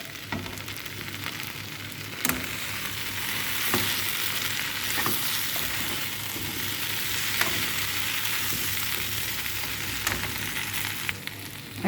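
Prawn heads frying in a pan with vegetables give a steady, close sizzle and crackle lasting throughout, broken by occasional sharp clicks of a utensil, with no voices.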